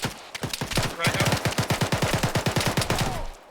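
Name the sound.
gunfire in the video game ArmA 3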